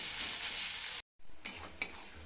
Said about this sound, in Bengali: পেঁয়াজ রসুনটা একসাথে একটু ভালো করে ভেজে নেব,